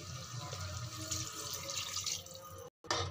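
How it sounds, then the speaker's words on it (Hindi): A glass of water poured into a pan of potato and eggplant curry, a steady splashing pour that runs close and continuous for nearly three seconds, then cuts briefly before resuming. "अब इसके अंदर हम 1 गिलास जो है पानी ऐड कर देंगे,"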